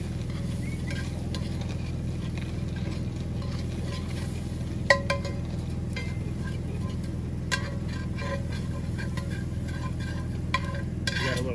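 Butter and flour roux stirred in a pan over a campfire, a steady soft scraping and sizzle running throughout with a few light metallic clinks, close and continuous with no talk.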